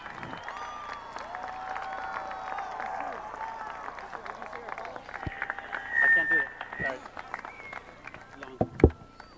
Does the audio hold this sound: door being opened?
no